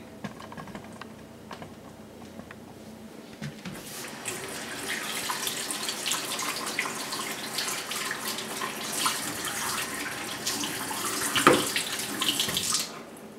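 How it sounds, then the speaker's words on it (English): Hands being washed under a running kitchen tap while making a sourdough starter, the water hissing steadily and splashing close by for most of the stretch after a quieter start. "And let me wash my hand."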